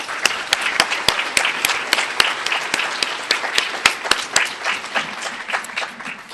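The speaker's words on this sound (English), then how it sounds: "let's give them a round of applause" Audience applause for sponsors at a Chamber of Commerce annual banquet, with sharp individual claps standing out close by over a softer bed of many hands, keeping an uneven, lively rhythm throughout.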